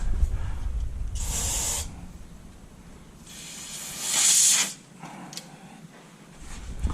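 Two bursts of aerosol brake cleaner spray hiss up close during an Audi S3 oil change, the second longer and louder, separated by a quiet pause, with low background rumble.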